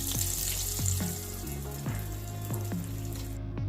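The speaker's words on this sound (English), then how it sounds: "we're gonna fry it until it's golden brown and crispy" Catfish sizzles steadily in hot oil as it fries until golden brown and crispy, a continuous close crackle with soft periodic taps underneath, no talking.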